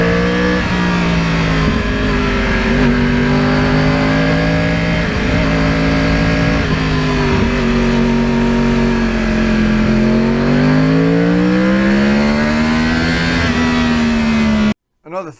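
A Yamaha R1 crossplane sport bike is ridden, its engine loud and steady with a strong droning tone that swells and sags as the revs rise and fall, continuous until an abrupt cut near the end.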